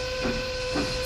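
A 19th-century steam railroad locomotive sounds its whistle in one loud, steady, sustained wail, wrapped in a hiss of steam, with no voices.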